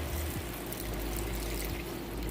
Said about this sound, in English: And then I'll add water.